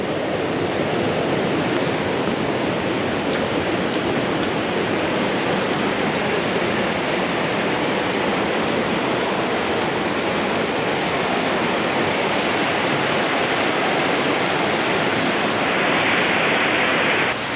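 Steady roar of the Cascade Falls waterfall in Mill Valley during rain, a dense unbroken rush of water heard close and loud for the whole stretch with no voices.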